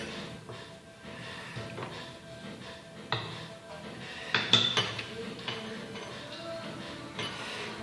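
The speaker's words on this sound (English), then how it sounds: "I'm gonna put it on top of this pot and try to get this off the counter" A metal pot handled on a kitchen counter during fruit and vegetable dyeing: scattered close clinks and knocks, with a cluster of sharper clanks midway over quiet room noise.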